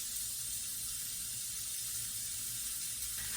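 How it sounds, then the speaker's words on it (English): Steady, dense sizzling hiss from beet burger patties frying in a skillet, close and continuous with no talking. "Ooh, you can hear that sizzle. My favorite sound."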